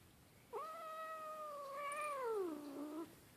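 A grumpy cat named Esther lets out a single drawn-out, wavering meow lasting about two and a half seconds, rising slightly then sliding downward, close and clear with no talking.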